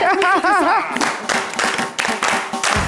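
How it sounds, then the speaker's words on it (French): A voice speaks briefly before a crowd breaks into steady clapping applause that continues to the end. "On applaudit pour lui"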